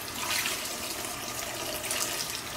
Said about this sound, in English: Okay, washing it with cold water.